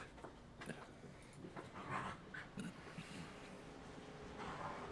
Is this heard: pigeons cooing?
no